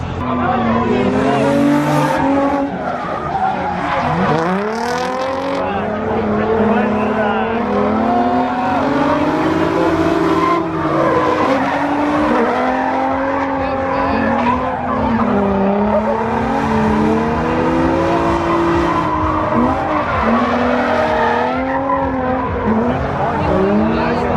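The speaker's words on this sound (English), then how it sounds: "they're about to start the main drift competition for King of OSW." Drift cars at a drift competition for King of OSW, loud and continuous, with engines revving up and down in sweeping pitch glides and tires squealing throughout, a busy crowd in the stands and some voices in the background.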